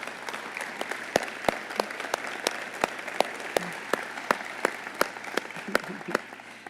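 Applause from a standing audience at a city's State of the City address, an even, continuous patter of many hands with a few louder, sharper claps standing out near the listener.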